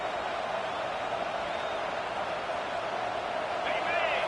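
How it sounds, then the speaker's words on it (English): Stadium crowd in the College Football 26 video game producing a constant loud roar, a dense sustained wash of voices with no breaks, close and steady throughout. "This crowd is trying to inspire this defense to make a big red zone stop."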